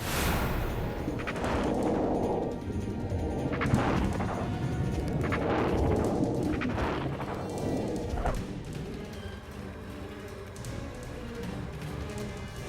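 Gunfire crackles in a killer-fish disaster movie scene, a cluster of loud, sharp bursts early on that gives way to a fading rumble.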